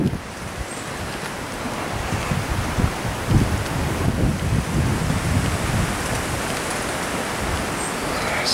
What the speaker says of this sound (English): I didn't realise it was going to be this windy.